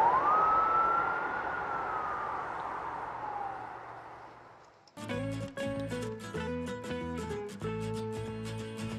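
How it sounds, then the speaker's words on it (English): A police car siren gives one rising and then falling wail for about five seconds, then cuts off and is followed by unrelated music. "Police car."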